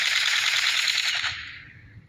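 A Ruger MP9 9mm submachine gun fires a rapid automatic burst at about 600 rounds per minute. The bright, rattling burst fades out over about two seconds.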